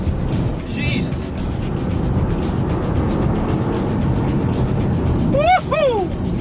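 A Nissan GT-R Spec V with boost control engaged pulls hard, its engine a loud, continuous roar inside the cabin, rising in a couple of surges near the end, with a voice briefly exclaiming over it.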